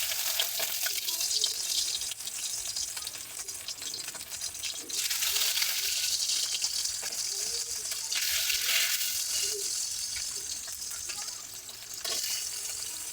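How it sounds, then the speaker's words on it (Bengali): Bata fish frying one piece at a time in salted oil in a kadai over a low gas flame, giving a steady, close broadband sizzle and hiss that swells and eases with no talking. "চলুন মাছগুলো ভাজা হোক।"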